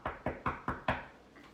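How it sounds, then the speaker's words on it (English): Five firm, evenly spaced knocks on a wooden door, close and clear, then quiet. "The wolf knocked on Granny's door"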